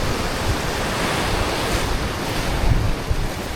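Ocean surf washes continuously on a shore during fishing, a loud, dense wash of breaking waves with wind buffeting the microphone and no voices.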